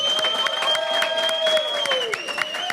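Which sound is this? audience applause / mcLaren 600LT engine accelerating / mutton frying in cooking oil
audience applause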